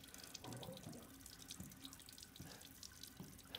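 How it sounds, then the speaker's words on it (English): A faucet runs steadily in a Resident Evil Village house interior, a continuous hiss of flowing water splashing into a sink, quiet and even throughout with no speech. "Just gonna leave the water on?"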